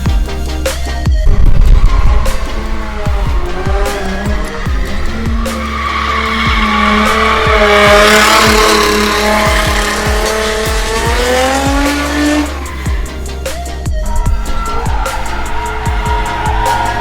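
A car drifts at a drift event, its tires squealing and skidding loudly in repeated bursts while the engine revs and wails close by, with no talking.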